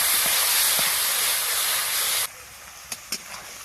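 Spice paste with turmeric frying in a pan after a little water is added, a loud close steamy hiss that cuts off abruptly, followed by quieter sizzle and two short clinks, no talk.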